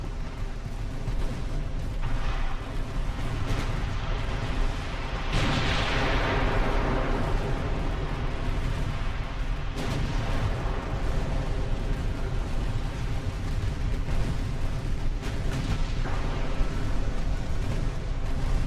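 Naval guns firing at a heavy cruiser during a sea battle in Ultimate Admiral: Dreadnoughts, with 1890-era hulls. Dense, continuous rumbling salvos with a sharp blast around five seconds and further booms at roughly ten and fifteen seconds, loud and sustained, with no voices.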